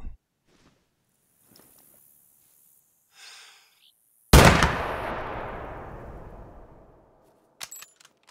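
A single loud, close rifle shot fired at a Rocky Mountain goat on a mountainside hunt, a sharp crack followed by a long rolling echo that fades over several seconds, with faint breathing before it and small clicks after.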